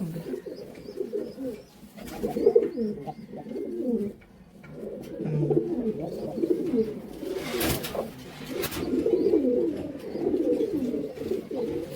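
Breeder pigeons cooing close by, overlapping soft throaty coos that roll on continuously with brief pauses, a few faint chirps mixed in.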